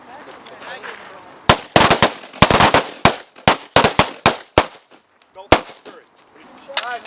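Carbine rifles fire at an outdoor shooting range, sharp loud cracks in irregular clusters with short pauses between, a dozen or more shots, with voices talking faintly in the gaps.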